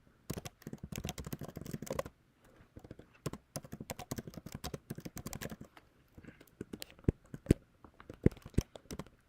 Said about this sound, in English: Well, now I can't talk because I'm typing.